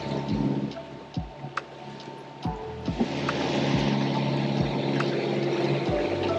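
Sailboat Marysol motoring under engine power, a steady low drone with regular thumping pulses and broadband wash noise, close and continuous with no speech.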